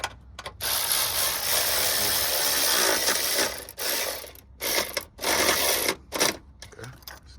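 A ratchet tightens a fusible link nut on a 2007 Lexus ES350, making close, rapid mechanical clicking in several bursts separated by brief silent pauses as the nut is snugged down.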